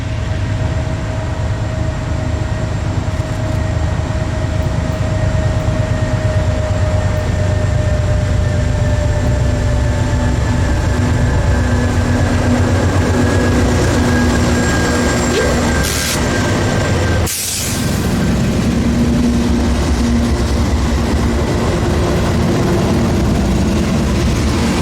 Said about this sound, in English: M36912 is finally pulling out of town, having spent the past 2 hours building their train